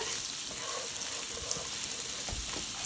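Garlic and white asparagus sauté in butter in a pan, producing a constant close frying sizzle with light stirring scrapes and no talking.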